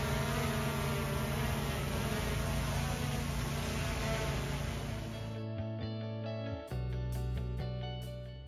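A DJI Mavic Air 2 drone flies over a baseball stadium with a steady, high-pitched whining buzz from its propellers, then the drone tone drops and steps as it changes speed, faint and without any talk.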